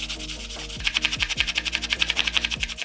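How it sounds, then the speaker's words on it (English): Paint being scraped by hand off a soaked Forge World Titan model, a steady, close rasping rub with rhythmic strokes throughout, alone with no voices. "I had to scrape every bit of paint off by hand."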